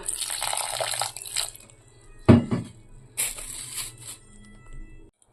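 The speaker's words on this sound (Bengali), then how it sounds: "অল্প অল্প করে জল দিয়ে দিয়ে আমি ব্যাটারটা তৈরি করব" Water is poured in small amounts into patisapta batter being mixed, giving soft broadband splashing and wet stirring, with a sharp clatter near the middle and a second burst of pouring and mixing after it.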